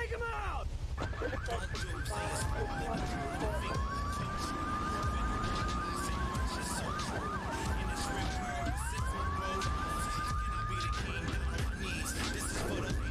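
Police sirens wail repeatedly in Grand Theft Auto III, several rising-and-falling tones overlapping over steady game traffic and engine noise, with a player talking throughout.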